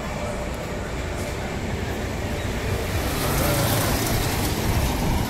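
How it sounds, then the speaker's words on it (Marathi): Steady, loud rumbling roar of a train on an overhead bridge, broadband and continuous, growing slightly heavier toward the end. "ट्रेनचा आवाज येत असेल तुम्हाला"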